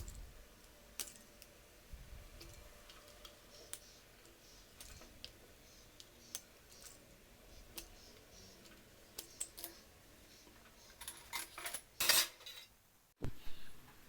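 Rava dough gets cut into triangles with a knife, producing faint scattered taps and light clicks against a board, sparse at first and then a few louder clinks and knocks toward the end.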